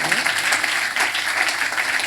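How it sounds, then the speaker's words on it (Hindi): Energetic applause from a congregation at a church convention meeting, a thick, continuous clatter of many hands clapping close by, steady throughout with slight swells. "आप फिर जोर नाल स्वागत करते हैं, ताली मारते हैं"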